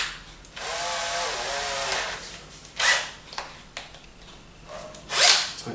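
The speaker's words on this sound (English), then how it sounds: "an old piece of wood which I'm going to use to drill down into" A power drill drilling down into an old piece of wood whirs steadily for about a second and a half, then gives several short bursts, ending with a louder high-pitched spin.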